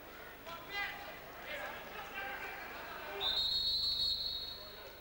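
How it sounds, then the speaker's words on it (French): A referee's whistle blows one long, shrill blast for a foul in a 1995 Germany versus Russia men's handball match at the Four Nations tournament, sounding over steady arena crowd noise and commentary. "Une faute sifflée sur Wolfgang Schwenke."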